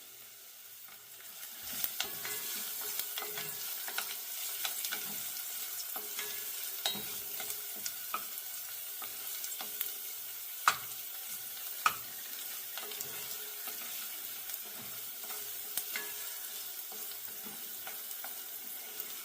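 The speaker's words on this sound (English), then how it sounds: "Give it a nice stir fry" Chopped garlic is stir-fried for Jamaican black beans. A quiet, even sizzle runs throughout, broken by scattered clicks and scrapes of a spoon against the pot.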